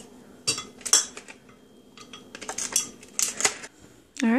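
Ice cubes dropped into a cup, giving a few sharp, close clinks and clatters in separate bursts, followed by a brief rising tonal squeak at the end.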